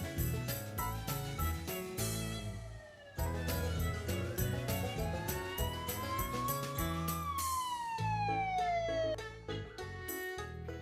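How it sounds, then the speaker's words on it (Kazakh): A police car siren sweeps up and down in long slow glides, rising and then falling away, heard over a busy, loud music background. "Полиция көлігі."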